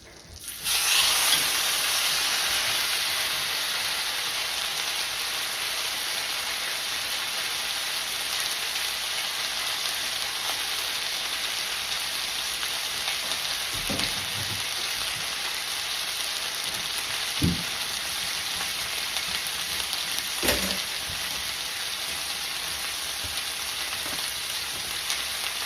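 A well-seasoned pot roast drops into hot butter in a pan, setting off a loud, steady sizzle that holds for the whole stretch, with a few faint clinks of handling along the way.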